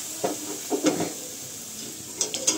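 Grated bottle gourd frying in a pan for gourd kheer: a steady sizzle under intermittent stirring and scraping strokes, with a few sharper clinks toward the end, close and clear.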